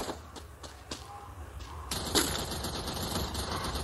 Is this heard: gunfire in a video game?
yes